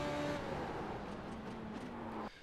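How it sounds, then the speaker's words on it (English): Simulated F3.5 race car at Okayama in iRacing, engine tone stepping down through gears while braking hard, a steady drone with falling pitch that cuts off abruptly near the end. "I start downshifting 5, 4, 3, 2, quite aggressively."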